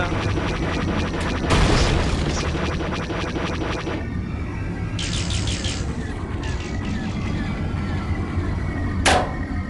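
Blaster fire and explosions ring out in the X-Wing space combat game. There are booms, bursts of rapid laser shots and a final sharp blast, all loud and continuous, with no speech over them.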